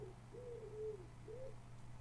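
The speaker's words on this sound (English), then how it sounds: "Oh, can hear the wood pigeons." Wood pigeons coo faintly in a South London setting, a soft rising-and-falling phrase repeated a few times with gentle distant quality over a low background hum.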